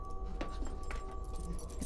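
A ring of keys clinks and jangles briefly in The Bunker, a few light metallic rattles over a steady low hum of room ambience.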